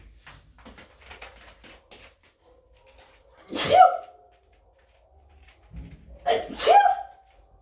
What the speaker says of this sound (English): I'm going to sneeze in your face.